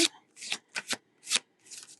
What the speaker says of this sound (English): I just do this quick little shuffle